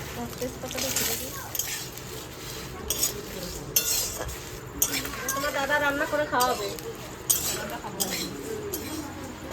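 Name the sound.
whole spices dry-roasting in a hot wok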